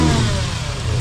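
A Toyota 2JZ engine swapped into a Nissan S13 runs at its first start, a loud, steady idle with a slight rev swell, close and alone with no voices.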